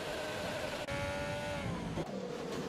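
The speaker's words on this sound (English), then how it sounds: "He's over-revving his engine" An F1 race car engine in a racing video game over-revs with a loud, continuous high-pitched whine that holds steady, with two brief drops where the pitch dips and recovers.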